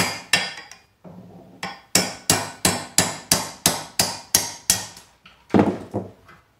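A hammer strikes a 1/4 inch roll pin punch in a jig to drive out a pin on a bat axe, about a dozen sharp metallic blows in steady rhythm, close and loud, with a pause before the final hits.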